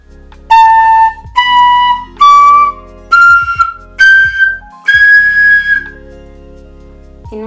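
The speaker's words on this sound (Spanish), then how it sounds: "podría decirse que es una quenilla. Me recuerda mucho a las quenas que son de hueso, las pequeñas." Small ceramic quenilla, a bevel-edged flute like a little bone quena, plays six bright, high-pitched notes in turn, each a short clear tone stepping upward with brief gaps between, close and loud.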